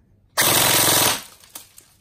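An A&K M4 airsoft rifle with a King Arms motor fires a single close, loud full-auto burst of just under a second, a rapid buzzing rattle that then drops away to quiet.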